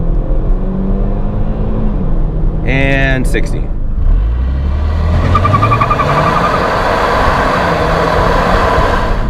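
A base model Kia Stinger launches from a brake-held start: an engine revving loudly, a brief chirp, then a rising acceleration note that climbs steadily while someone speaks over it.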